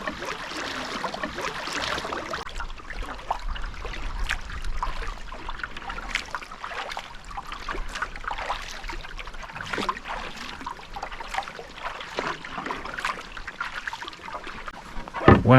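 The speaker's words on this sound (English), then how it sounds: "Working with the paddle like this, I can still control the aiming." A kayak paddle works through choppy water during gusty-wind kayak sailing, with steady splashing and trickling strokes close by over constant wind and water noise, and no talking.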